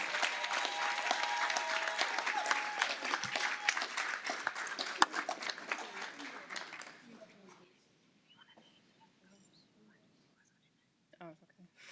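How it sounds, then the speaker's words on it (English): Audience applause at a school board meeting, a dense burst of clapping for about seven seconds that fades out, followed by near silence with a few faint handling sounds. "Let's give them a round of applause."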